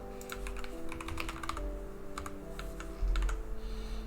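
Rapid keyboard typing on a computer keyboard, short clicky keystrokes in quick bursts over steady game music, no talking, close and moderately loud.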